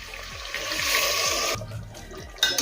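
Hot water from a rinsed kadai pours into a cooker holding browned mutton and fried potatoes, a close rushing splash that builds, cuts off sharply, then gives a last short gush.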